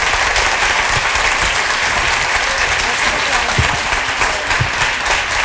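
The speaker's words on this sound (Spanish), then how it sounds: "pediros un aplauso para los padres de este proyecto, para Mario Tascón y para Charo Marcos" Loud, close applause from an audience at a Spanish book presentation, honoring the project's creators, a thick continuous clatter of many hands that stays even throughout.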